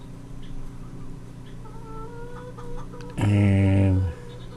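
Chickens on a homestead cluck in a low murmur, then one bird lets out a loud, drawn-out squawk near the end before the flock settles back to soft background clucking.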